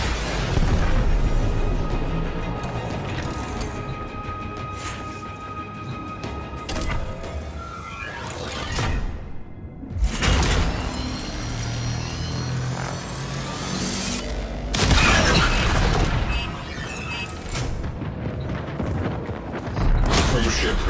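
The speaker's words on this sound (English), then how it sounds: "Cruise ship reactor has detonated" A cruise ship reactor detonates in a space combat video game, a loud sustained roar of explosions and booming rumble with bursts of blast energy across the clip, mixed with game sound effects and some talk.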